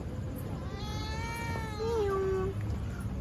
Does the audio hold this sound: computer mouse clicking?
no